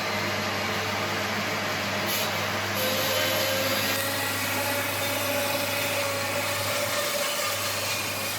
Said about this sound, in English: I'll get this over to the bandsaw, take off this corner